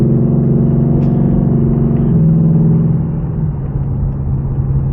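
A 2022 Ford Mustang GT with an airbox mod gives a steady, deep engine and exhaust rumble that holds for about five seconds and eases slightly near the end, with no voices over it.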